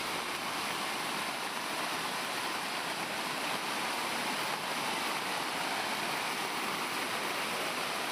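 Floodwater from the Bhadra river in Chikkamagaluru rushes through farm fields as a steady, dense roar of churning water that holds unbroken from start to end, with no voices.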